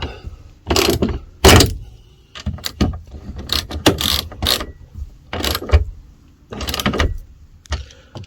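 Ratchet wrench tightening bolts on the sliding door of an Iveco Daily van under conversion, giving bursts of close mechanical clicking and metallic rattling separated by short pauses.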